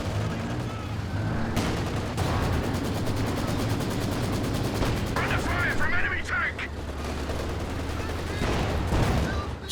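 An MG-34 machine gun fires in a wartime video game match, with rapid bursts over a loud, dense battlefield of other gunfire and explosions and a commentator's voice underneath.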